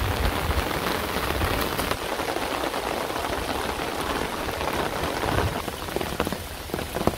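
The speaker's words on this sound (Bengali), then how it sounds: "তো এই পাশে যে বৃষ্টিটা কিন্তু বোঝা যায়।" Steady rain pattering on surfaces outdoors among trees in a countryside setting, a dense close hiss with scattered drop taps, continuous and unbroken with no one talking.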